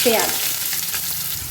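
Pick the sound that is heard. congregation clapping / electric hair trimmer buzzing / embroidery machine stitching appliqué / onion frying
onion frying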